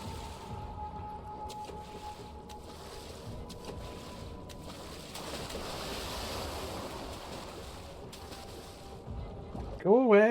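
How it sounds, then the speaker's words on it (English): Sloshing, surf-like water churns steadily and fairly loudly in the flooded area stalked by the invisible water monster in Amnesia: The Dark Descent, with a warbling tone rising near the end. "legendary water monster."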